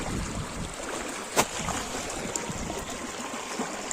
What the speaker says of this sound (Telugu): వాటర్ ఫ్లోయింగ్ చూడదు ఫ్రెండ్స్,